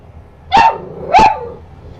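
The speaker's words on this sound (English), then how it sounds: "Pardon the noise in the background because it's my dogs fighting" Pet dogs fighting in the background let out two sharp barks about half a second apart, loud and close, with a quiet gap after each.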